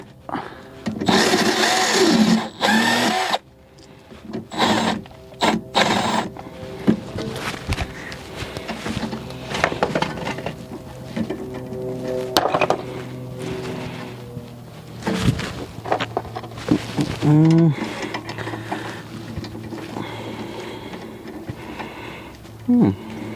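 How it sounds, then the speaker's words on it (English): A Milwaukee cordless power tool whirs in repeated bursts while rear brake parts come off a Honda CR-V, loud and close, with clanks and handling noises between runs. "So using my Milwaukee cordless."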